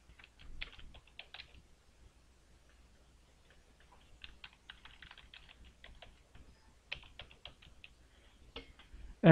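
Computer keyboard typed on in quick clusters of soft clicks separated by pauses, close and quiet against a low hum, with no voices.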